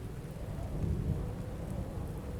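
Heavy rain pours steadily through a thunderstorm, with a deep continuous rumble of thunder swelling slightly midway and no voices.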